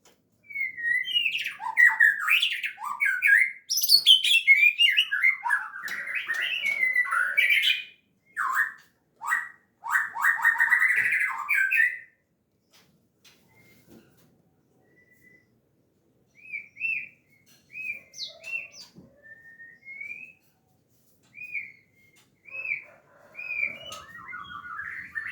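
A white-rumped shama (murai batu) calls in loud bursts of squawks and chirps, then repeats clear whistled notes in a rhythmic series, close and with no speech.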